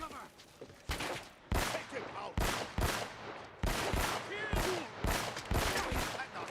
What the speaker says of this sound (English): I'm great at shooting those little banisters